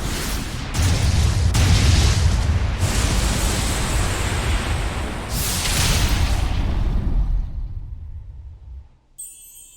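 A cannon firing in the video game Tales of Zestiria, several loud booming blasts in quick succession that roll into a long rumbling decay, then fade to near silence.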